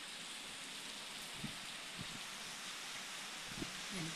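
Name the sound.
rain falling in the mountains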